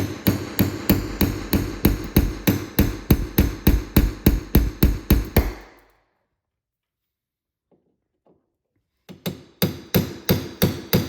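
Light hammer taps knock a rivet loose while a mudflap is fitted to a BMW G87 M2. A quick, even run of close, sharp taps stops into near silence, then starts again.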